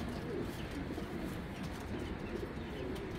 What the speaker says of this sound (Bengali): এই যে এবারে সিলের কবুতর